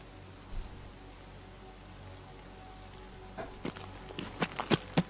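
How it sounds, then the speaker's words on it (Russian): Rain falls steadily in the video game Escape from Tarkov as a soft, even patter, with a few sharper nearby knocks or footsteps building toward the end. "Блин, еще и дождь."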